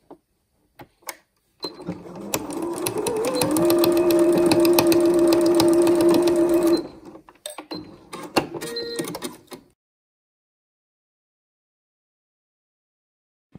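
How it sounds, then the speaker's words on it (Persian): A sewing machine stitches the two ends of bias tape together, a steady mechanical whir that holds for about five seconds, then stops and restarts in short bursts, close and alone. "حالا کار میبرم زیر چرخ و دقیقا روی این قسمتی که علامت زده شده توی این راستا دو تا نوار رو به هم میدوزم"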